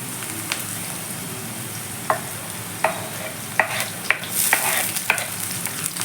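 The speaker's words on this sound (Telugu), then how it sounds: "కట్ చేసుకున్న టమాటో ఉంది కదా అది వేసేద్దాం" Chopped tomato fries in hot oil with koyyakura stems, sizzling steadily close by, while a spoon scrapes and stirs the pan in irregular knocks and strokes.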